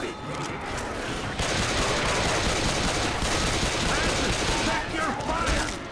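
Sustained automatic gunfire in Left 4 Dead 2, loud and dense with rapid overlapping shots throughout, and a faint voice mixed in beneath.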